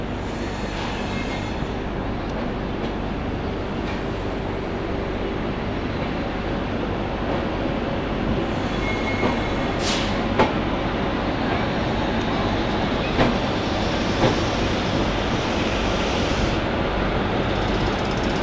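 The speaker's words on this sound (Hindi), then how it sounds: "भाई ये ट्रेन जल्दी से चले और हमें पहुँचाए" Pathankot Superfast Express train running through Amritsar, a steady broad rumble and rushing noise of the moving train throughout, with a couple of faint squeaks and clanks partway through.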